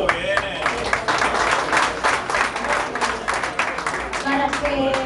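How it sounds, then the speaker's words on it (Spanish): A crowd applauds at an inauguration event, dense continuous clapping from many hands filling the whole stretch, with some voices faintly underneath. "Un aplauso viene."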